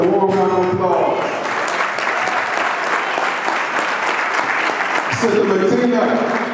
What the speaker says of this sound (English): Sister Jacqueline, Sister Jacqueline, a warm round of applause.